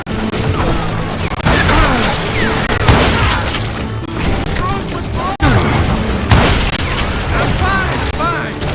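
Gunfire in the Western shooter Call of Juarez Gunslinger, with loud, dense volleys of shots and booms that run almost continuously under shouted voices, broken by a brief cut near the middle.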